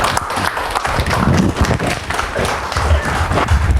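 An audience at a religious gathering applauds, a thick, continuous crackle of many hands that stays loud and close throughout, with no talk rising above it.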